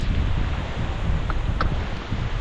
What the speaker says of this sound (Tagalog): Tama naman po ang hangin.